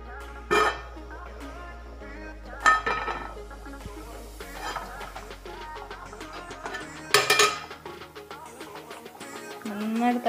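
Metal pot lid and pan clinking on a stove while fish curry is checked, a few sharp bright clanks spread out with quieter handling rattles between.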